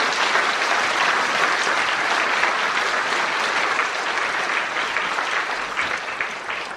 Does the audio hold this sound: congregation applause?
yes